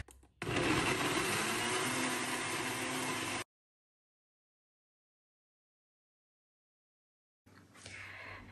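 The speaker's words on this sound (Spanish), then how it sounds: "Voy a empezar a agregar lo que son los chiles, el ajo y la cebolla a la licuadora." A blender whirs loudly for about three seconds as it purees chiles, garlic, onion, oil and salt, then stops dead before starting up again near the end.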